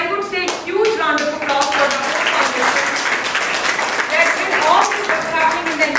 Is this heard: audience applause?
yes